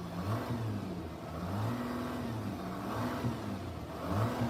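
The 3.0 diesel engine of a 2014 Audi Q5 revving while the car stands still, rising and falling in a couple of moderate swells against a rumbling idle, heard up close with no talk.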